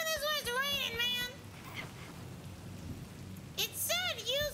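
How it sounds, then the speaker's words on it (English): Steady rain hisses in the Cyberpunk 2077 video game, a soft, constant wash. Voices talk over it at the start and again near the end. "Why are we doing this when it's raining, man?"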